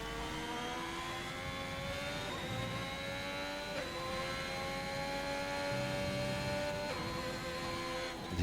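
Ferrari Formula 1 car engine in a racing video game, a steady high-pitched whine that rises and falls slightly with gear shifts, loud and continuous with no talk over it.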